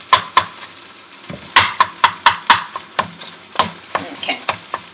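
A spatula chops and breaks up scrambled eggs in a frying pan for shrimp fried rice, giving a series of sharp close taps and scrapes in uneven bursts over a soft sizzle.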